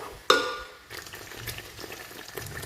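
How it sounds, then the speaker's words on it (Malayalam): A spoon stirs kabsa rice mixture with salt in a pot: one sharp clink of metal, then soft scraping and faint bubbling stirs, quiet and close. "ഇതിങ്ങനെ ഇളക്കി കൊടുക്കുക"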